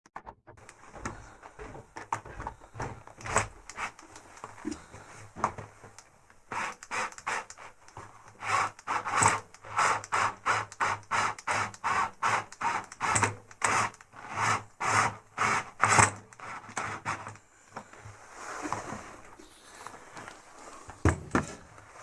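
Fastening the clamp on the rubber door seal of a Samsung AddWash washing machine gives a long series of rhythmic scraping and clicking strokes, loud and close, building to fast regular bursts before easing off.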